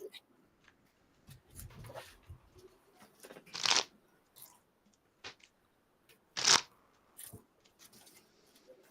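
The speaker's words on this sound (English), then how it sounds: "I hope the aggression of my shuffle is bothering." A deck of Magic cards gets riffle-shuffled aggressively during an online Commander game, giving two loud, crisp ripping bursts a few seconds apart amid softer card handling and intermittent talk.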